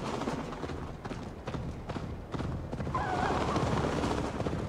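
Horse hooves gallop at a steady rhythmic clip-clop in the Assassin's Creed Valhalla video game, mixed with dense game ambience and music, loud and continuous throughout.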